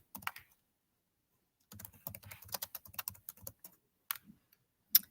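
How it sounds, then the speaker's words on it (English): Rapid clicking of a computer keyboard as a title is typed into a classroom assignment page, in short bursts with pauses between, close and clear with no talking. "And you just type in your title."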